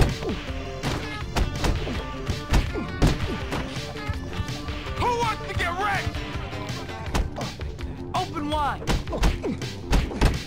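A fistfight in the Bully video game, full of repeated heavy thumps and smacking blows landing at an irregular pace, with excited voices shouting over the hits.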